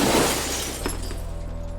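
Office glass shatters as a thrown grenade hits it in a movie scene: a loud, sudden burst of breaking glass, followed by a sustained low rumble and scattered tinkling debris.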